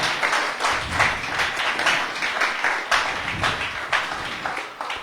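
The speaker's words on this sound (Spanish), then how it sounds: "Un aplauso al Señor esta mañana" A church congregation applauding together during a Spanish-language service, a steady wash of many hands clapping for about five seconds with a few sharper accents and no talking.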